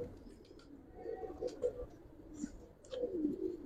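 Old-breed Giribaz pigeons in an Old Dhaka loft coo softly in a few low, rolling phrases, faint and fairly close, with brief rustles between calls.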